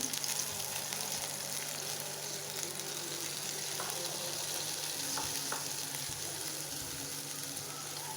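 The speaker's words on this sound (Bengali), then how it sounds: "তো এই মশলাটা আমি ভালো করে কষাই নিব" Ground turmeric, chili and coriander powder with ginger-garlic paste fry in a home kitchen pan, giving a steady, soft, continuous sizzle with faint stirring scrapes throughout and no talking.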